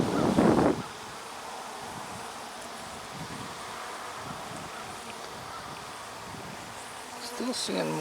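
Honeybees buzz steadily around a caught swarm colony, a continuous close drone with light rustling and a brief louder bump at the start and end.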